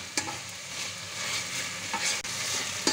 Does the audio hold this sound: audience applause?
no